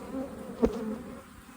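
A low, steady buzz of honey bees in a hive close by, with a brief louder burst partway through.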